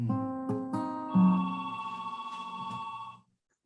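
A telephone rings in a few close, resonant tonal bursts that sustain and then cut off abruptly into silence.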